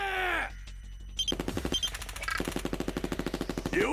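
Machine guns firing in the game I/O: after a brief electronic whine and a pause, a loud, rapid, evenly spaced stream of gunshots rattles on for several seconds.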